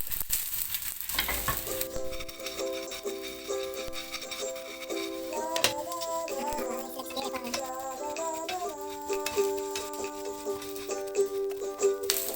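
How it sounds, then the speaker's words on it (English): Ingredients for Indonesian peanut sauce fry in a hot pan with a continuous sizzle and occasional stirring, heard beneath steady background music. "We will fry this until smells good."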